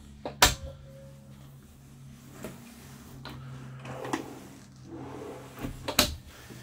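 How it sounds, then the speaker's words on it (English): Several soft thuds of soft-close drawers closing in a 2022 Provincial Liberty, spaced irregularly over a quiet background, each a muffled knock with a brief slide before it. "soft close drawers"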